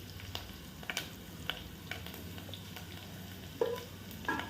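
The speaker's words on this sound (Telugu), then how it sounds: "కరివేపాకు కడిగేసాం కదా చిటపడి చిటపడి అంటుంది" Washed curry leaves spluttering in hot oil as tempering for a raw mango and green chilli chutney, a close, steady sizzle punctuated by sharp crackling pops and light stirring, with no talking.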